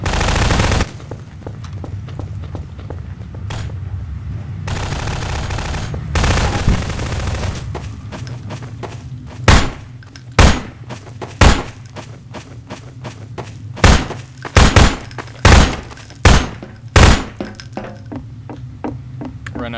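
Bursts of gunfire crack in Garry's Mod Prop Hunt, scattered sharp shots and short volleys standing out loud over a low rumbling game background.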